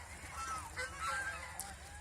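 Domestic geese on a small hobby goose and duck farm honk in short nasal calls, a few overlapping cries at moderate distance over a low background rumble.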